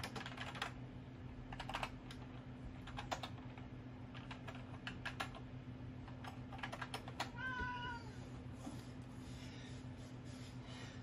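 Tuxedo cats meowing indoors, two short rising meows in the latter part, amid steady clicking of computer keyboard typing and a constant low electrical hum.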